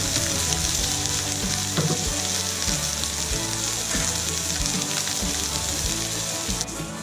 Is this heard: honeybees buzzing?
no